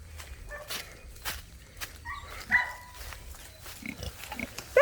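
Pigs grunt and squeal nearby with small higher squeaks from piglets, mixed with shuffling and scattered clicks.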